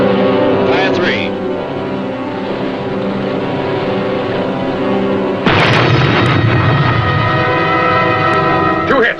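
Aboard a WWII submarine, the Tautog, torpedo hits explode as a sudden heavy, rumbling blast that cuts in over a steady droning hull hum and rolls on for several seconds.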